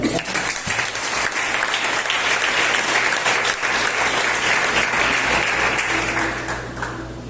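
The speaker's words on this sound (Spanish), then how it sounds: "Yo creo que usted tiene que aplaudirle a Dios." A church congregation breaks into sustained, dense applause that fills the room loudly for several seconds, with a steady low hum beneath and a tone entering near the end as the clapping thins.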